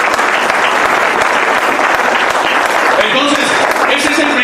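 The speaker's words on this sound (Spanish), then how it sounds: "Le da un aplauso a Dios," A church congregation breaks into loud, sustained applause that fills the room, with scattered voices mixed into the clapping throughout.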